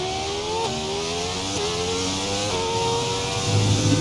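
A race car engine, linked to Rubens Barrichello's Formula 1 and Stock Car driving, revs up through several gear changes, each shift dropping the pitch before it climbs again, loud and steady without talk.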